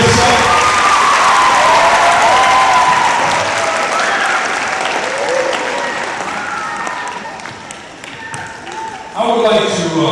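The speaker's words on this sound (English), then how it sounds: "give yourselves a great big round of applause" A high school assembly crowd gives itself a big round of applause, dense sustained clapping with shouts and voices mixed in, fading slightly toward the end before a brief renewed burst.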